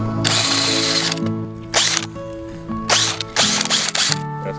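A power drill bores into garden ground in a meadow in four short, loud whirring bursts separated by brief pauses.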